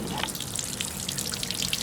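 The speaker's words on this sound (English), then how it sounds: "You know, you could use the regular hose like I'm about to use right here." A regular garden hose sprays a steady, gentle hiss of water onto a used oil filter, a continuous close wash with faint splattering.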